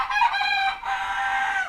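Chickens clucking and crowing close by, a steady run of bright, raspy calls with a brief dip partway through.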